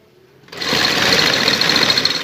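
A sewing machine starts after a half-second of quiet and runs at a fast, steady whir while stitching lace onto a V-shaped neckline, loud and close, with no talking.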